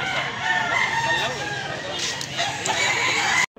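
Year-old white leg rooster among fowl, clucking and crowing calls fairly loud and close, with a voice talking alongside.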